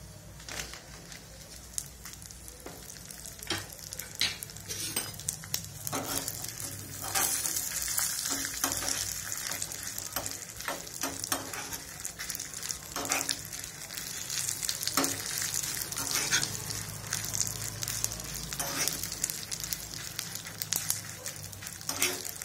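Fenugreek seeds and dried red chillies sizzle and crackle in hot oil for mango pickle, with scattered pops and occasional stirring scrapes, close and continuous.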